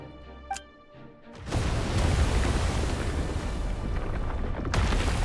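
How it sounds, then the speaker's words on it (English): Explosions in the Genshin Impact video game: after a brief sharp pop, a massive sustained roaring blast erupts and rumbles on loudly for several seconds. "Wait, what's that sound? Explosions."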